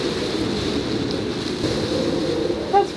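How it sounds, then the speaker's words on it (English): Strong wind of about 30 knots rushes steadily over a boat at anchor, a continuous broadband roar with gusty buffeting and water wash, loud and unbroken throughout. "It's 30 knots. It's so windy, I'm actually not getting at all wet here."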